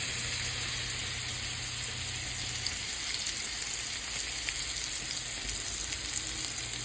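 Food frying in a pan of olive oil and butter, a soft, continuous close sizzle and crackle with light stirring, steady throughout and no talk.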